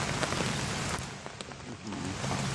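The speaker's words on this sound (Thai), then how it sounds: "ฝนตกเปียกโทรศัพท์" Steady rain patters and hisses on a surface, a dense continuous wash of drops with a few sharper taps, no voices.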